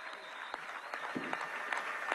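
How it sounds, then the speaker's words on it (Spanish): A crowd claps in dense, steady applause at a Venezuelan government housing handover event in the Orinoco region, heard faintly as if from a distance, without voices over it. "un gran aplauso desde aquí, desde el Orinoco, desde el sur de la patria"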